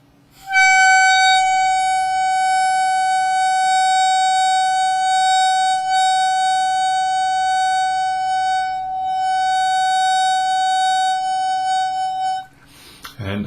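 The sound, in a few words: harmonica overblow note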